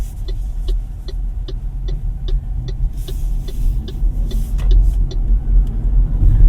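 A 2024 MG4 EV Standard electric car drives along, giving a low steady road hum with regular soft ticking over it and a gradual swell in loudness toward the end.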